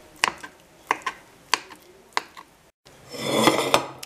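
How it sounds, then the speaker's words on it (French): A knife slicing mozzarella finely on a board, five evenly spaced sharp taps and clicks close by, then a short pause and a rougher rustling scrape. "Je prends la mozzarella, je la détaille le plus finement possible."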